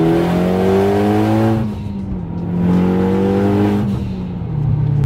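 A Mitsubishi Evo X with stock valve springs and cams revs hard in second gear, loud and close, its engine note climbing in two long sweeps with a brief dip between them.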